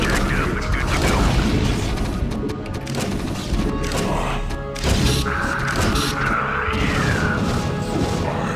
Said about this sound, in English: Gotta avoid the explosion there.